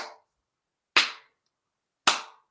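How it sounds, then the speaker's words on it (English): Three separate sharp hand claps, spaced about a second apart, each crisp and close with a quick decay into silence, clapped for the Krampus during a Christmas ritual. "That's how you clap for the Krampus"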